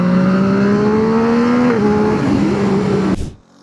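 A Yamaha MT-09 Y-AMT motorcycle engine hums loudly and steadily nearby, its pitch dipping in steps as gears shift down, then cutting off abruptly at the end.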